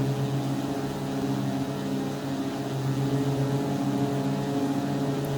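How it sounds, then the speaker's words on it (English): Carenado B58 Baron twin piston engines in the X-Plane flight simulator, running at reduced RPM as a steady, continuous droning hum with layered low tones, alone and without talk. "now let's listen to the engine sound"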